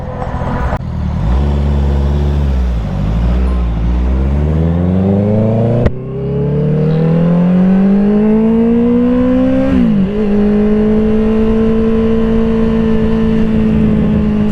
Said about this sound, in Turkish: Bol bol egzoz dinleyeceğiz bundan sonra.